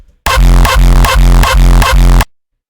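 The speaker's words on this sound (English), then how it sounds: "The next kick is actually quite similar. It has the same tail, but just a different punch." A second remade kick drum, sharing the same booming tail but with a different punch, pounds loudly in a steady series of about seven hits before cutting off abruptly.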